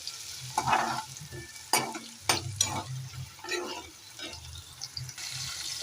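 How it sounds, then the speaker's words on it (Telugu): Onions fry in a pan for a curry with drumstick and cucumber, crackling and sizzling as a spatula stirs them in loud, irregular bursts; no voices. "ఆనియన్స్ కొంచెం లైట్ కలర్ వచ్చేంత వరకు వేయించుకోవాలి"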